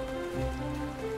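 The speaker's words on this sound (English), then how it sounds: "Rainy days, rainy days." Steady rain falls in Final Fantasy XIV, a soft continuous patter on surfaces under a low, sustained ambient tone, with no voices.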